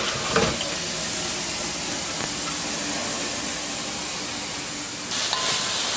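Water and cooked rice pouring out in a steady rushing hiss while being drained, with faint kitchen clatter at the start and end, likely alongside chicken cooking for burritos.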